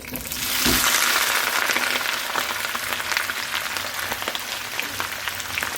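Sliced onions hit hot oil for pepper chicken, bursting into a loud sizzle that then settles into a steady crackling hiss, no talk.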